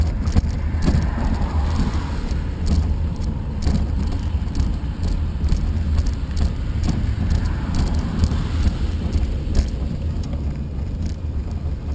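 Cars pass along an asphalt road with a steady, close rumble of tires and engines, broken by a few light knocks, with no voices.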